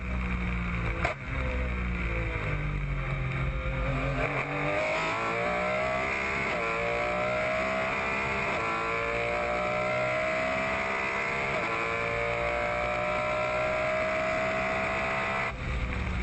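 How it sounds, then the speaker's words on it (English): An onboard Porsche 997 GT3 Cup race car engine roars steadily at Symmons Plains in 2010, its pitch climbing through gears and dropping on shifts, loud and continuous throughout. "let's take a listen to the 997 Porsche GT3 Cup car"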